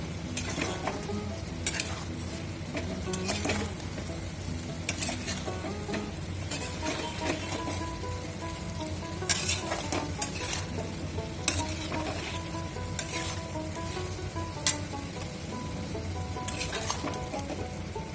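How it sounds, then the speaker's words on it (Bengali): Fried papad stirred into cooked vegetables in a pan makes a continuous sizzle, with repeated spatula scrapes and clinks against the pan at an irregular rhythm, close and moderately loud without speech. "ভেজে রাখা পাঁপড়গুলো এইভাবে সবজির সাথে মিক্স করে নেব।"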